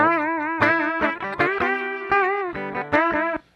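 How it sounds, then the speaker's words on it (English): A clean, unprocessed electric guitar plugged straight in plays a stop-start riff, bright plucked notes in short phrases with slides and gaps, up front and alone. "So this is just the DI tone."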